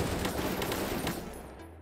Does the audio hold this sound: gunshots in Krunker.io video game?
yes